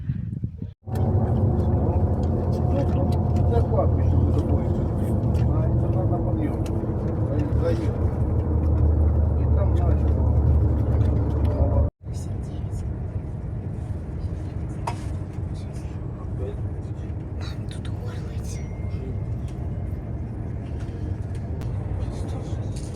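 A family car on a four-hour road trip from Kamianets toward Vinnytsia, its engine and road noise a steady, loud low rumble throughout, with a brief cutout partway and talk over it.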